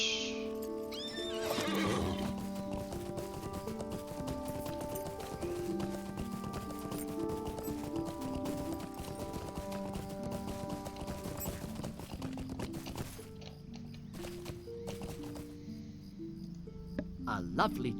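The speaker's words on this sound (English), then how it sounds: "Horse." A horse in Lord of the Rings Online, set in the Shire, whinnies loudly and then clip-clops along amid a chirping cricket ambience and a gentle musical backdrop, with hoofbeats continuing steadily toward the end.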